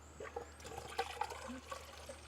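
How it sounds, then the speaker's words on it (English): Water is poured into a Chevy Impala's cooling system, making a faint, steady splashing trickle with small gurgles heard at close range and no talking. "We're gonna dump water in the cooling system."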